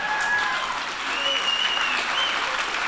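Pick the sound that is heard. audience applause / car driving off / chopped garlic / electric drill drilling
audience applause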